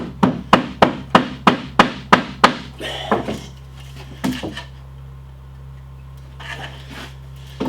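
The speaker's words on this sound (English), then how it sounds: "if you push down on the back side and tap on it kind of sideways, it'll work that edge up to the front" A wooden piece is tapped sideways to shift its edge: a quick run of about eight sharp, evenly spaced knocks up close, then a few scattered lighter taps over a faint low hum.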